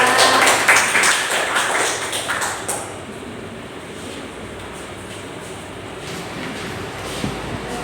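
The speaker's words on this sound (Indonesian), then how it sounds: "Berikan aplaus untuk kelompok 2" Classroom applause for student group 2 after their presentation: a dense, loud wash of clapping that thins after a few seconds into a steadier, softer patter.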